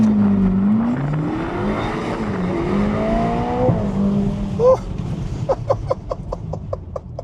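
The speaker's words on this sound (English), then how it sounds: "Right, let's give launch control a go. Manual, launch. Yes, activated, foot on the brake." Ferrari Amalfi Spider launching hard on launch control, the engine note climbing steadily through revs before quick upshifts break it into a rapid, pulsing series of gear changes, loud and close throughout.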